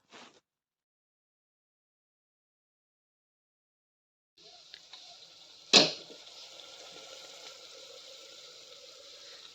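Potatoes and peas are tipped into a pan of lightly fried vegetables. A near silence gives way to a sudden hiss, a sharp clatter, and then a steady, even sizzle that continues to the end.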